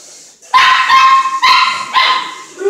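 A dog barks loudly and close by, three sharp barks spaced roughly a second apart after a brief quiet start, with a fainter whimper at the end.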